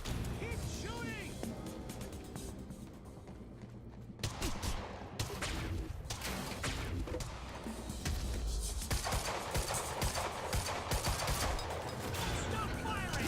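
Dense gunfire and crashing impacts during a firefight in the video game Quantum Break, a steady barrage of shots and clatter running throughout with voices talking over it.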